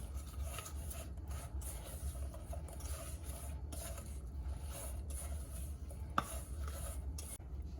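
Seasoning mixture being stirred through homemade BBQ sweet potato chips in a bowl, a soft continuous rubbing and scraping rustle with occasional faint clicks, steady and close with no talking.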